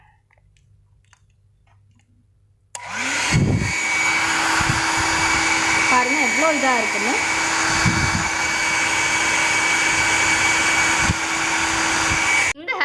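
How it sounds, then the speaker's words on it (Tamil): A budget hair dryer priced under 800 rupees switches on abruptly and blows a loud, steady roaring stream of air close by, running without pause while someone talks over it. "நான் இதை ஆன் பண்ண போகிறேன்."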